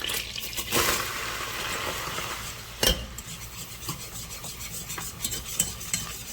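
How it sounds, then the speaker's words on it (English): All-purpose flour is stirred into melted fat to make a roux for Southern collard greens: a gentle bubbling sizzle with rhythmic scraping strokes of a spoon against the pan and a couple of louder knocks. "What we're doing here, this is making a roux."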